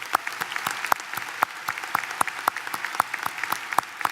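Audience applause at a university commencement ceremony, many hands clapping in a large hall, with sharp individual claps standing out over a steady crowd wash.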